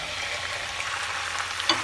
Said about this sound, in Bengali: তেলে দিয়ে দেব চিকেনটা